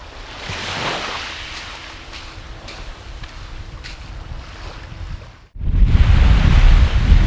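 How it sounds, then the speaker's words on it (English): Strong wind blows at sea around a small fishing boat off Jamaica. A steady roar of wind buffets the microphone, with a brief cutout before a heavier, rumbling gust surges in loud and close. "So we're getting some strong wind now, you know, some strong wind."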